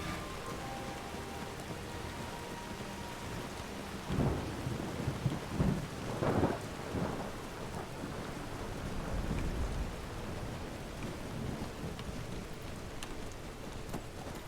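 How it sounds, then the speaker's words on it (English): Rain hisses steadily in the Skyrim video game as rumbling thunder rolls through the middle, a few loud low booms standing out against the constant patter of drops. "That rain."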